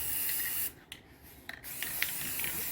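Spray painting the inside of a kitchen cabinet, with cardboard shielding: a steady close aerosol hiss runs throughout, broken by a short pause and a few faint taps and clicks before the spraying resumes.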